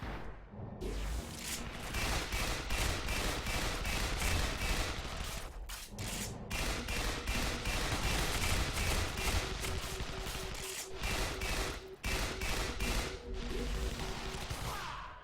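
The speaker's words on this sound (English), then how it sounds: "I was not mindful of the mortar there, and I got hit by it" In the video game Tribes Ascend, mortar fire and explosions erupt in rapid bursts of booming blasts and crashes. The barrage is dense and sustained, with brief gaps between volleys.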